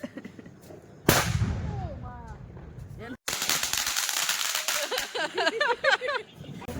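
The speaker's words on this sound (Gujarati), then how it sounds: "બોમ્બ ફોડે ને એટલે બીક લાગે" Diwali firecrackers go off: one loud crack, then a rapid, crackling string of bangs with high whistling squeals mixed in, close and loud.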